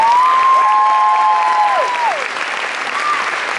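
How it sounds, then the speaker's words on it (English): Festival crowd applauds the creators at a live stage show, loud sustained clapping with a whistle-like tone gliding over it early on, then the applause eases slightly. "I'd love a round of applause for the creators"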